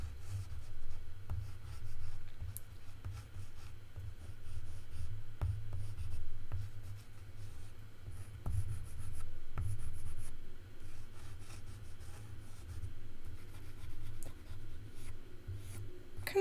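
Conte crayon pencils scratch and rub steadily across paper in continuous close strokes, with a low hum in the background.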